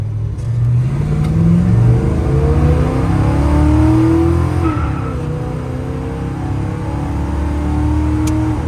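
A 1969 Chevrolet El Camino SS with a 396 cubic inch V8 revs and pulls steadily while driving, a continuous loud mid-pitched drone rising and falling with throttle, no sputtering, no voices.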